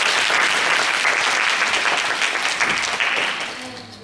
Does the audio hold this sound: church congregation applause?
yes